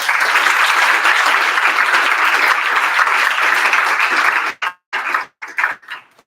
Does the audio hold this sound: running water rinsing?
no